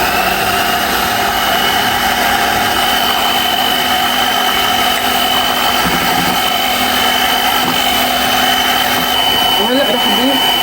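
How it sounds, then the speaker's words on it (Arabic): Electric hand mixer whisking cake batter as flour and other ingredients are folded in, a steady continuous whirring motor drone running throughout at close range, with faint background sounds. "وكمان رح اخفق معه"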